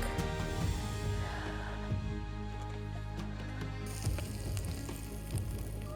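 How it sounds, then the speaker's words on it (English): Onions fry in a little oil in a pot over a fire in the Namib Desert along the Kuiseb River, a steady, close crackling sizzle with a low hum running beneath it throughout. "fried onions in a little bit of oil. Let us cook onions like that."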